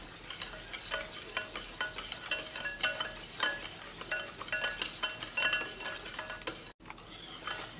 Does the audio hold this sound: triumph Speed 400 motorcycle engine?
no